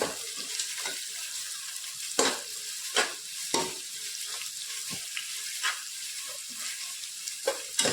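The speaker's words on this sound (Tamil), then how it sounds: "இப்போ ஆனியனை நல்லா வந்து ஒரு வதக்கி விட்டுக்கலாம்" Onions being sautéed in a pan for biryani: a soft continuous sizzle broken by repeated spatula scrapes and knocks against the pan, close and fairly quiet.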